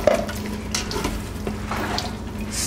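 A spoon stirs coconut milk into rice inside an Instant Pot, giving soft scraping strokes over a low, steady sizzle. The sound is close and continuous, with no voices.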